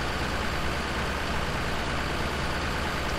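A tractor engine idles in the Farming Simulator 17 video game, a constant, even low rumble with a broad hiss over it, steady and unbroken throughout with no voices.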